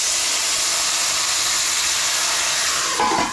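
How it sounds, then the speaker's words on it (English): Butter and stock hit a hot pan of asparagus and give off a loud, steady steamy hiss that stays close throughout, followed by a short burst of sizzle near the end. "I'm gonna add a couple tablespoons of butter, maybe about a half cup or so of this stock."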